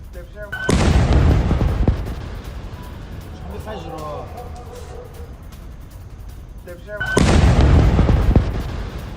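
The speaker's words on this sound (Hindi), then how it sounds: "दक्षिण लेबनान में बमबारी है।" News footage of bombing in southern Lebanon: two heavy, loud explosions several seconds apart, each a sharp blast rolling into a long rumble, with a voice faintly audible in the lull between them.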